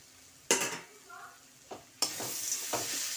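Fried peanuts tipped into a frying pan of chop mixture with peas for a homemade snack, bursts of close sizzling and a spoon stirring and scraping in short strokes.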